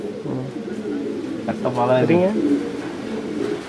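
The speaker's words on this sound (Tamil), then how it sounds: "ஆனால் இது பழைய வழி புறா தானே?" Pigeons of an old traditional breed coo softly in a short burst of throaty, rolling calls, heard close by under a man's speech.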